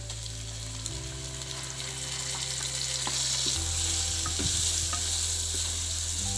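Onion and tomato frying for a masala chicken gravy over a wood-fired stove, a steady loud sizzle with stirring scrapes running throughout, no talking.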